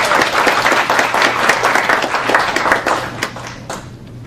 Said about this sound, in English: So please, big round of applause to show your appreciation for Tradewinds.